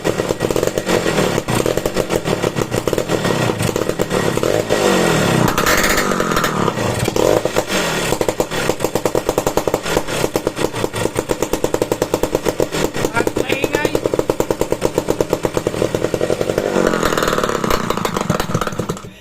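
A motorcycle engine with a worn connecting rod and bearing runs loud and close with a harsh, rapid rattling knock hammering through it the whole time, swelling with throttle blips.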